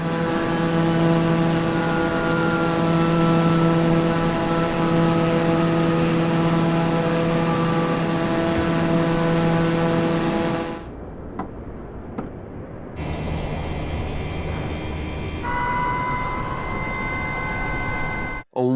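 A Microsoft Flight Simulator 2020 aircraft engine holds a loud, steady droning hum with a tonal whine, then cuts abruptly. A quieter, lower engine tone follows, with shifting pitch and a sudden stop at the end.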